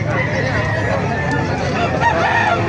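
Roosters crow amid the steady din of a crowded chicken market in Calumpit, Bulacan, with 7-month-old SBR gamecocks on sale; the crowing rises over continuous background chatter and clucking, fairly loud and close throughout.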